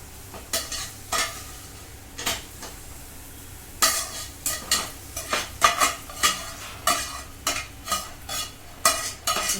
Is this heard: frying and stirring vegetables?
yes